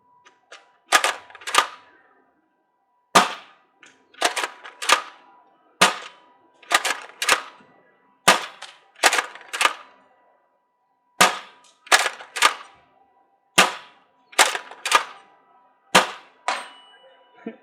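Repeated gunshots fired at targets during a shooting session, sharp cracks arriving singly and in quick pairs every second or two, each with a short ringing tail, loud and close with no talk.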